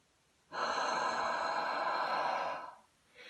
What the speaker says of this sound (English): Your long huff is like fogging up either a mirror, window, glasses when you're going to clean them.